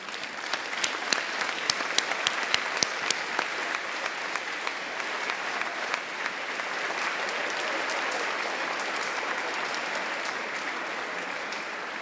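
Graduation audience at a 2018 South Windsor high school commencement applauds steadily for about twelve seconds, dense clapping with a few sharper claps early on, loud and sustained without speech.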